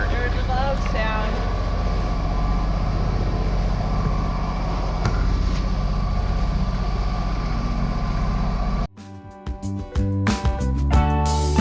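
A sailboat's motor running loud and steady with a heavy low drone, which then cuts out and is followed by clattering and bumping sounds.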